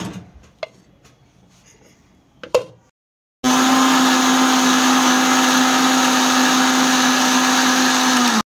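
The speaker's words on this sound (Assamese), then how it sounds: "বাটাৰত ভাজি লোৱা তিয়হখিনি মিক্সিত মাৰি পুনৰ এটা বাচনত ঢালি লৈ জুইত বহাই দিলোঁ" A kitchen mixer grinder blends butter-fried cucumber, roaring into a loud, steady high-pitched whir after a few seconds of quiet clinks and knocks, running continuously until it stops.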